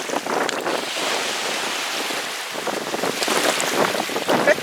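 Rough sea waves at a seaside picnic: a continuous wash of surf and splashing water with wind buffeting the microphone, swelling and easing in uneven surges, close and fairly loud.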